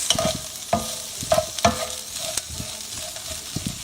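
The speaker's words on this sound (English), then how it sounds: "put them over the stove to stir fry" Green beans stir frying in a pan on the stove: a steady sizzle broken by sharp scrapes and clacks of stirring, close and fairly loud, with no voices.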